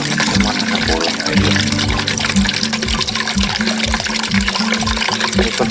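A restored fountain's pump starting up, with a strong jet of water gushing and splashing continuously and loudly up close.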